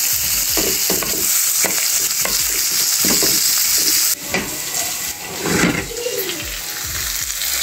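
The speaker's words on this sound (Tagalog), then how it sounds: "nagigisa po ako ngayon ng white onion sa butter" White onion sautéing in butter in a pan, a loud continuous sizzle with repeated scraping stir strokes, briefly interrupted around the middle before the frying hiss resumes, no voices.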